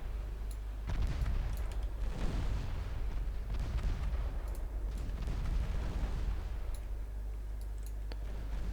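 Naval guns firing in Ultimate Admiral Dreadnoughts, a warship battle game: deep booming blasts and rumbling impacts roll in several waves over a low continuous engine drone, with scattered faint clicks and no talking.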